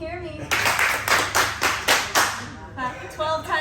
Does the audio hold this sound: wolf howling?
no